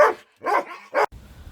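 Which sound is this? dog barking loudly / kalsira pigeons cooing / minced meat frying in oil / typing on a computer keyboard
dog barking loudly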